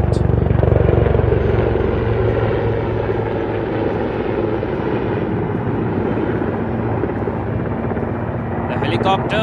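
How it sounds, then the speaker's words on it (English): A military helicopter holds a low pinpoint hover over a landing spot during a special forces exercise at Pokhran, its loud, steady rotor roar and engine rumble close and continuous throughout, with a voice speaking over it. "notice the helicopter as the pilot, using his superior skills, is making a deliberate approach to establish a pinpoint hover on the"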